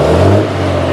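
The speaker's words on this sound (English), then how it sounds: "she sounds fairly quiet for a non-muffled turbo" A non-muffled turbocharged car engine runs up close and loud, a steady mid-pitched whir with a rising rev through the one-second stretch, no voices over it.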